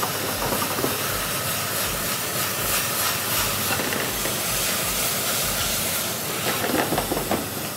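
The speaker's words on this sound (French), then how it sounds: "Donc on va tout de suite déglacer avec la sauce soja." Loud, steady sizzling hiss of a hot pan as soy sauce hits it to deglaze mushrooms and quinoa, continuous broadband crackle throughout with no talking.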